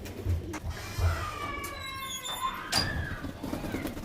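Pigeons in a loft, Naptha-type birds with black-green and ghee-coloured eyes, give a few low, soft coos near the start, with faint rustling and thin background noises around them.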